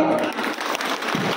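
An audience at a women's cancer awareness event held by a Hyderabad employees' association gives a brief, dense burst of applause, fairly close, with a few sharper claps near the end.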